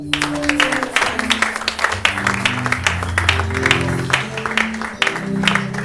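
Worship congregation clapping in acclaim of the king during a praise and adoration service, steady dense applause running throughout over sustained music with singing.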